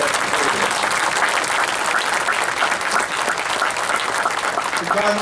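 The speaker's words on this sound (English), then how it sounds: "How about a round of applause for everybody" Loud, sustained applause from a crowd at a Fort Lee Run for the Fallen gathering rolls on without a break, with voices mixed into the clapping.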